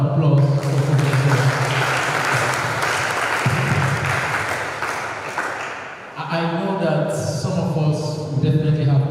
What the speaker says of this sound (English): another round of applause for Professor.